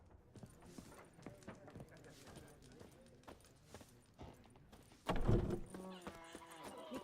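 Roach the horse from Witcher 3 clip-clops along at a steady walking pace, the hoof knocks moderately loud, with a heavier burst of hoof and movement noise near the end.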